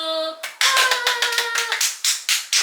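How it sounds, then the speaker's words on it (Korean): A few people clap briskly in a room on a casual trip, sharp close hand claps in quick bursts following a brief sung or voiced tone. "박수!"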